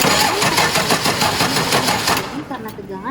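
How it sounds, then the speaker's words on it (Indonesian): A heavy equipment engine cranks slowly on a weak battery, its starter churning in a fast, even rhythm for about two seconds without the engine starting, before the noise fades. "Ketika kontak diputar, starter bergerak pelan dan mesin tidak mau hidup."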